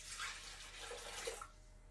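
Water poured into a bowl while mixing steamed meatballs, a steady splashing stream of about a second and a half that then tails off, fairly quiet and with no voices.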